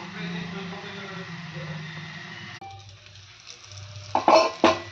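Soft raw country banana pieces frying with salt, turmeric and chili powder in a pan, a steady close sizzle ending in a few clattering stirs of the spatula.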